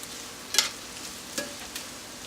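Mushrooms cooking in butter with bacon in a pan, a soft steady sizzle broken by a few brief scraping stirs, close and quiet, with no speech.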